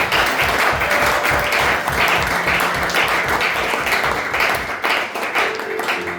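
A church congregation at a Sunday service breaks into loud, sustained applause, a dense, even roar of many hands clapping together throughout.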